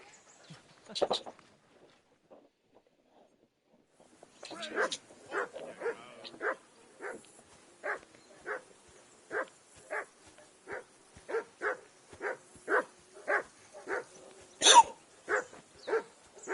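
Dog barking in the video game Kingdom Come Deliverance 2, a few early barks, then a steady series of regular, fairly loud barks roughly every half second, with one sharper yelp near the end.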